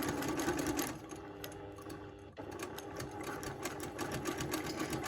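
Domestic sewing machine stitching steadily while fabric is pushed by hand against a ruler for free-motion quilted circles, a fast continuous hum that pauses briefly midway, then resumes at the same pace, close up.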